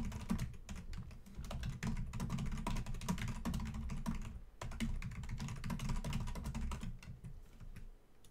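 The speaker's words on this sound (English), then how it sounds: "God dang, who you typing to, boy?" Rapid, continuous typing on a computer keyboard, close and steady for the whole stretch with a brief pause midway, no talking over it.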